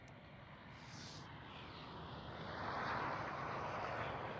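A KLM Boeing 737 at Schiphol gives off a steady engine roar that builds gradually louder toward the end, with a brief higher whine early on and no talking.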